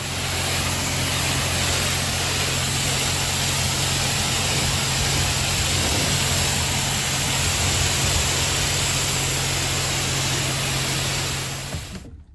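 An automatic car wash sprays and scrubs a vehicle named Charlene, a steady loud broadband rush of water and machinery with a constant low hum, going on without pause before stopping abruptly at the end.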